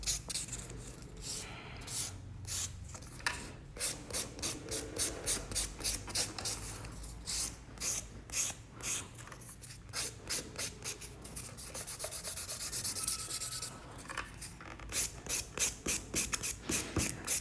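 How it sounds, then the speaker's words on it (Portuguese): Buffer file polishing a gel nail near the cuticle during a decorated gel maintenance, giving a rapid run of soft rasping rubs, close and steady, repeated in short back-and-forth strokes with brief pauses. "essa lixa, né, na verdade, de polir, ela consegue dar um acabamento muito bom na área da cutícula"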